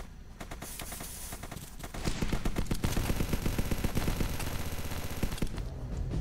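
P90 fire in ZOMBS ROYALE, a rapid stream of loud automatic shots that starts with scattered pops and then becomes a sustained burst lasting several seconds.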